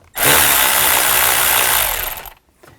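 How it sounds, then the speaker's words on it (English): A power tool loosens the worm clamp on the air intake snorkel of a 2000-2006 Chevy Tahoe, one loud steady whir close by lasting about two seconds before cutting off, no speech. "Loosen up this worm clamp."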